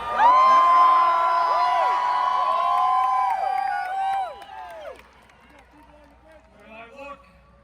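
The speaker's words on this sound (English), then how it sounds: "Huge crowd." A large outdoor political rally crowd in Queensbridge Park, New York, cheering and shouting loudly with overlapping whoops that fade to scattered voices.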